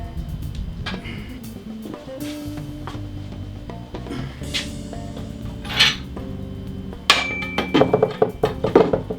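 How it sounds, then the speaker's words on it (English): Metal clanks and knocks of a pipe wrench tightening steel pipe fittings on a homemade bike stand, a series of irregular nearby clinks that grow sharper and more rapid toward the end. "I've got a pipe wrench here. Good thing to use on pipe."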